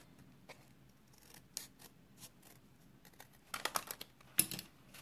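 Scissors trimming the end of a piece of card stock while making a handmade greeting card, a series of faint, quiet snips and crisp paper rustles, with a sharper cluster of cuts near the end.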